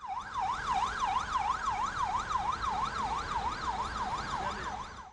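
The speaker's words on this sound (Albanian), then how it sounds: "E vështirë duket situata edhe për këtë ambulancë, ndonse sinjali i saj njofton një emergjencë." An ambulance caught in a traffic jam wails its siren continuously in a fast rising-and-falling pattern, steady and fairly close, with no speech over it.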